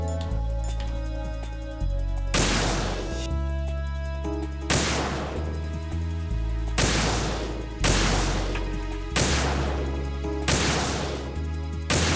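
Gunfire from the video game Metal Gear Solid 2 comes as sharp, heavy shots repeating at a roughly steady pace over a dense, loud game soundtrack, with no speech.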